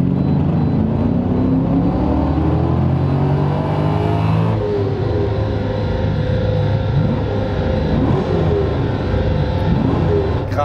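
A Subaru BRZ fitted with a swapped LS3 V8 and a longer rear differential accelerates hard in fourth gear, a loud, continuous engine roar with rising pitch that fills the whole stretch.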